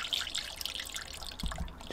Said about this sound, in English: Just go slower now, because the air from the system is bubbling its way out.